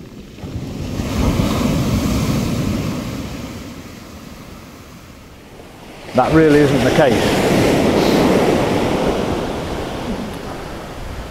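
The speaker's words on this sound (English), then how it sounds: "As you can hear, there is a fair old swell on as well." Swell breaking as surf on the open East Yorkshire coast at Kilnsea, a steady broad wash of waves and wind that swells and eases, with someone talking over it partway through.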